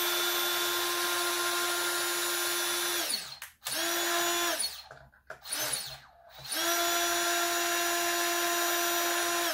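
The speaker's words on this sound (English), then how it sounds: "Then come down here with this drill extension." Power drill fitted with a drill extension whirs at a high steady pitch, stops and restarts in a few short bursts, then runs steadily again, close and clear with no speech.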